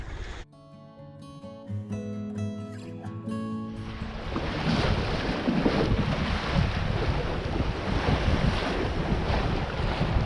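A small sailing dinghy under sail at sea near the Great Barrier Reef, beam reaching in a southerly breeze: after a few seconds of music, loud continuous wind buffeting and rushing water take over and stay close.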